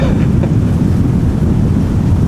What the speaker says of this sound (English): The wind is blowing towards us.